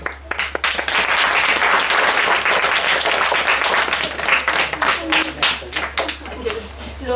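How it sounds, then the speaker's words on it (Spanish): A crowd applauds loudly and continuously, clapping that thins out toward the end beneath a steady low hum. "¡Aplausos!"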